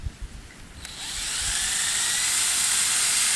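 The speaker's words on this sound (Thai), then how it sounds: "เราก็ใช้สว่านนะครับ ผมก็ใช้เป็นดอกเจาะไม้นะครับ เจาะลงไปเลยนะครับ" A power drill fitted with a wood bit bores into bamboo; after a few soft knocks the motor spins up to a steady, loud, high whine that holds to the end.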